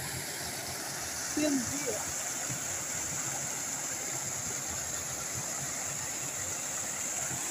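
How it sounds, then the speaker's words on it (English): River water flowing steadily as a broad continuous rush, with someone speaking briefly over it. "Look at this water. This is the river now."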